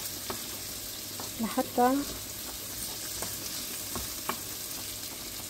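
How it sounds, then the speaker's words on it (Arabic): Garlic frying in a pan for a creamy chicken fettuccine Alfredo, a steady broadband sizzle running throughout with a few light utensil taps and a brief voice cutting in near the start. "يتقلى الثوم."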